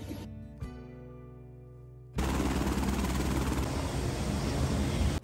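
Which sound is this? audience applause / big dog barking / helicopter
helicopter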